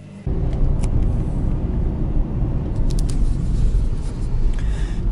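A car drives along a road, with a steady low engine and road rumble heard from inside the vehicle. It starts abruptly and holds a constant level, with faint clicks on top.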